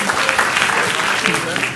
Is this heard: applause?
yes